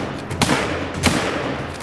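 Two rifle shots in the hunting game theHunter: Call of the Wild, set on a Siberian map, each a sharp crack with a brief echoing tail, spaced about half a second apart over a low background bed.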